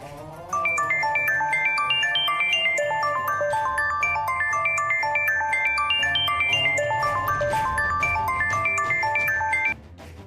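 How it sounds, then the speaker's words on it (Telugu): A melodic electronic phone ringtone for an incoming call plays loud and close, a repeating tinkling tune that starts abruptly and cuts off near the end, with no talk. "పని మనిషి ఫోన్ చేస్తుందేంటి?"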